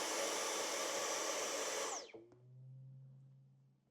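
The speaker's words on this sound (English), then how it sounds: "we like to do the vacuum sound because it's super important it's just a regular household sound that people use almost every day" A household vacuum cleaner runs loudly and close as a noise exposure for goldendoodle puppies, with a steady whining roar that winds down and cuts off halfway through, leaving a low fading hum.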